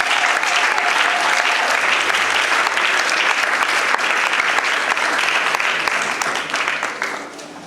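A wedding congregation breaks into sustained applause to acclaim the Lord during a nuptial blessing, steady dense clapping filling the room for several seconds before tapering slightly at the end.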